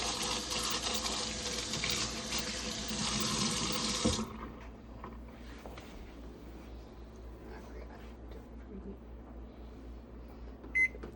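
Tap water runs hard into a kitchen sink while something is rinsed out, a steady rushing flow that cuts off abruptly, leaving quiet room sound with a faint beep near the end.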